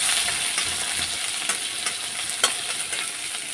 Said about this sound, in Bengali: পেঁয়াজগুলো দিয়ে দিলাম পেঁয়াজটা একটু নাড়াচাড়া করে নিয়ে দিয়ে দেবো আলুগুলো